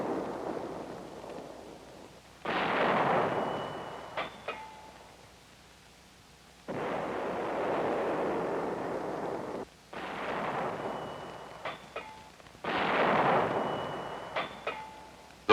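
Artillery guns firing live ammunition during gunnery practice, four long rumbling blasts spaced several seconds apart, each with a booming onset and a rolling decay, heard alone without talk.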